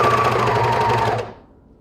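Sewing machine stitching a wide cami strap down on its own, a fast steady whirring hum close by that runs for about a second before stopping abruptly into near silence.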